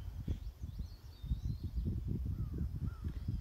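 Crows cawing along a wooded nature trail, repeated harsh low calls in an irregular rhythm, moderately near, with faint higher bird chirps in the background.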